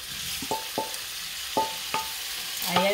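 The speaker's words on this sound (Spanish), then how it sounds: "Vamos a ponerla a sofreír un poco el pulpo antes de empezar a sazonar." Octopus sautéing in a spoonful of oil in a hot pot for octopus macaroni, a faint sizzle punctuated by several sharp metallic clinks and scrapes of a spoon against the pot.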